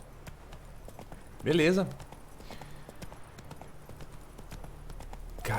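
Horse hooves clip-clop at a gallop in The Witcher 3, a fast steady rhythm throughout, with a brief loud neigh and someone speaking over it.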